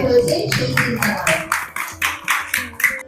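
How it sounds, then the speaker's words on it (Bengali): Children at a primary school Saraswati Puja clapping hands in a short run of sharp, evenly spaced claps, near and loud, with an adult voice speaking underneath at the start. "একটু হাততালি দাও হাততালি হাততালি"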